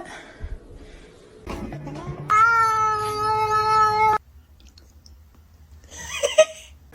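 A kitten lets out one long, loud, strained meow lasting nearly two seconds, then a shorter, higher cry follows after a quiet pause.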